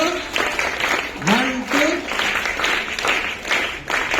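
A group claps briefly for a school kabaddi team captain at a prize event, with people talking and counting over the applause.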